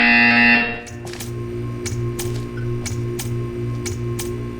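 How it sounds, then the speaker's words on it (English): A steady electronic buzzer tone from the video game Portal 2 sounds briefly at the start, then gives way to a regular series of sharp clicks over a low hum. "You will hear a buzzer."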